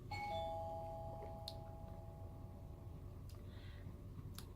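A home doorbell gives a single faint, clean two-tone ring at the start, then fades into a quiet room with a few soft knocks.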